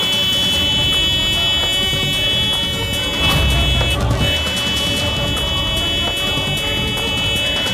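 A continuous high-pitched horn tone blares for several seconds over traffic noise, briefly cutting out near the middle before sounding again.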